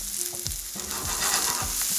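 Green onions fry in a pan, a steady close sizzle with a few sharp pops and crackles scattered through, swelling slightly louder toward the end, with no talk.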